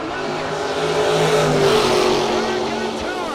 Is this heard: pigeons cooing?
no